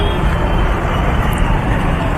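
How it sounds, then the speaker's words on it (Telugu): Heavy road traffic near the Patancheru bus stand in Hyderabad rumbles loudly and close by, a continuous blend of car and bus engine noise with no distinct pauses. "full traffic"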